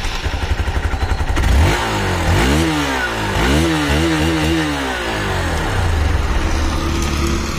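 A Hero Xpulse 200 adventure motorcycle with a 200 cc engine idles close by, then revs repeatedly in quick rising and falling bursts before settling back to a steady idle.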